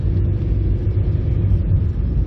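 Steady low engine rumble inside a moving 1989 Nissan Sunny B12 estate with a 1.6 engine, loud and continuous with a droning hum.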